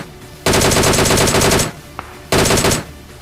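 Automatic gunfire in a PUBG-style battle royale shooter, coming from the right side, as two loud sustained bursts with a short gap between them and no talk over them.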